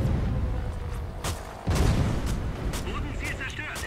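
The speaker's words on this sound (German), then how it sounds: "Und die Bombe raus." A bomb drops from a warplane in World of Warplanes, flying an AR80 or Ao192, with a heavy boom and rumbling bursts amid game gunfire and engine noise while someone talks over the action.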